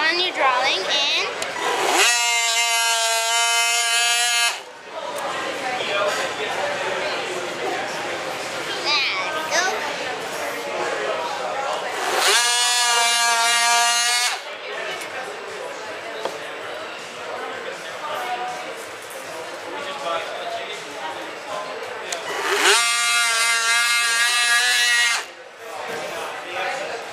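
A Craftsman power tool cutting along a drawn line, its loud tonal whine coming in three bursts of a few seconds each with talk filling the gaps between them.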